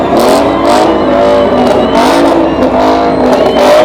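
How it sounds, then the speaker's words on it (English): At a supercar show, a car engine revs loudly and close by in repeated surging bursts that rise and fall across the whole stretch. "Stop revving your car."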